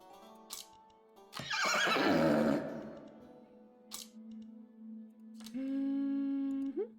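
A horse neighing in a horse betting scene of the video game Sultan's Game, one loud whinny followed by quieter snorts and a final sustained tone.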